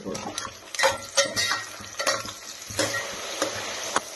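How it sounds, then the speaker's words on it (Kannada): Mushrooms frying in a pan with onions for a hotel-style mushroom biryani, giving a steady close sizzle broken by repeated scraping stirs of a utensil against the pan. "ಈಗ ಮಶ್ರೂಮ್ ಹಾಕೋತೀನಿ ನೋಡ್ರಿ ಈಗ ಇದನ್ನ ಫ್ರೈ ಮಾಡ್ಕೊಳ್ಳೋಣ"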